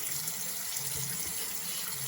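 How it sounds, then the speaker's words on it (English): Tap water runs steadily into a sink while a hand-washed cloth face mask is rinsed under it, a continuous close splashing stream with no talk. "So we'll do one more rinse here just to be safe."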